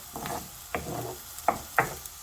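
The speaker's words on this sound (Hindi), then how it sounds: "इसको हल्का सा हम फ्राई कर लेंगे" Chopped onion fries lightly in a pan, a soft sizzle broken by several quiet stirring scrapes and taps at uneven intervals, close up and fairly faint.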